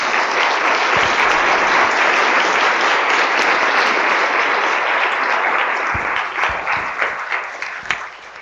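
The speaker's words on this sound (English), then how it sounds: "I would like to extend a round of applause to all of the women up here" An audience gives sustained, loud applause for the women panelists at a public meeting on female sexual dysfunction, a dense wash of clapping that thins and fades over the last few seconds.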